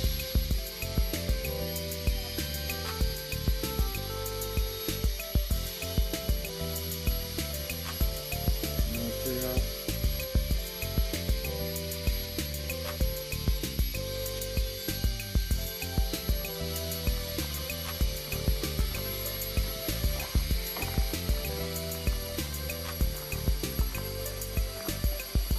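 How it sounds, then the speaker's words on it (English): Hoi Khua waterfall in a green jungle park pours down in a dense, continuous hiss and roar that stays steady and loud without pause. "Oh, there's the waterfall."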